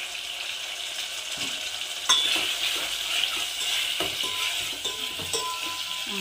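Ingredients fry in a pan with turmeric and salt, giving a steady sizzle with occasional scrapes and knocks of a utensil stirring. It is close and continuous throughout, without talk.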